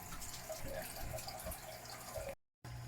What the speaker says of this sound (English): So now we're filling that barrel while we continue to drain this barrel.